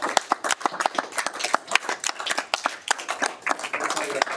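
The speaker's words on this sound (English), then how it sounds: "Ms. Yancey, can we just give a round of applause?" Round of applause at a school board meeting, a modest room of people clapping in quick uneven bursts that continue steadily throughout, with some voices faintly underneath.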